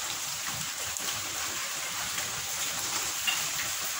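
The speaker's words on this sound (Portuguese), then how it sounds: "deixa eu mostrar pra vocês a chuva. Olha. Chovendo. Continua chovendo." Rain falls steadily on a farm, a dense, even hiss of drops with faint spatters and taps throughout, moderately close and uninterrupted by speech.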